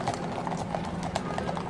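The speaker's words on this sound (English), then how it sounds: "They are Border Patrol horses from California and Arizona." Border Patrol horses from California and Arizona clip-clop in a quick, steady rhythm of close hoof strikes on a hard surface, a dense run of beats with no talk.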